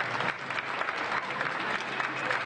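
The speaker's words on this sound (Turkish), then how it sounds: "sağlık çalışanlarına olan desteğini coşkulu alkışlarla gösterdi" Applause rises from balconies and windows across Turkey for health workers fighting the coronavirus, a broad, continuous wash of many distant hands clapping at an even level.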